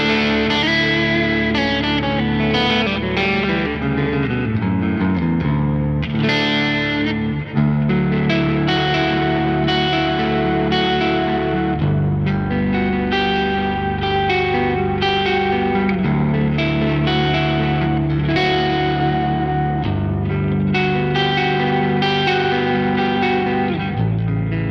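A G4M 529 Pro-FR metal-bodied electric guitar played through its Alnico 5 neck pickup, with a continuous run of distorted, effects-laden notes and chords washed in chorus and reverb, loud and sustained, and no talk.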